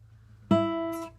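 A single guitar chord strummed once, ringing out clearly and fading over about a second.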